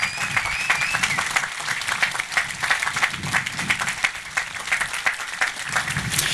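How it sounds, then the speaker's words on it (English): An outdoor Memorial Day ceremony crowd applauds volunteers, many hands clapping in a steady, lively patter that continues throughout at moderate loudness, with a few faint voices mixed in. "let's give them a nice round of applause for all that they do"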